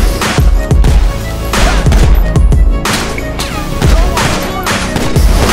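Heavy gunfire fills a cinematic cutscene after an order to shoot, loud close bursts of rapid shots in repeated volleys with crashing impacts, continuous and dense across the whole stretch with no talking.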